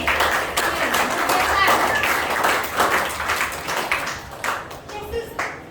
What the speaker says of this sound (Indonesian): Mari kita berikan tepukan untuk ini.